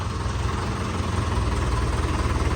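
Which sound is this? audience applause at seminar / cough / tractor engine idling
tractor engine idling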